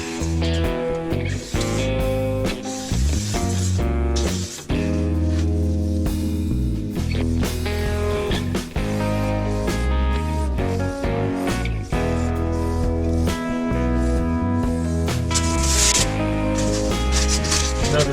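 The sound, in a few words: Japanese saw cutting Silver Glow foam insulation board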